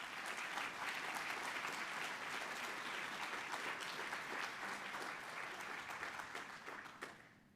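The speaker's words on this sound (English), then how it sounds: "So another round of applause." Audience applause at a Texas Bankers Hall of Fame event, a dense steady clapping from a large crowd that holds strong for several seconds before thinning and fading out near the end.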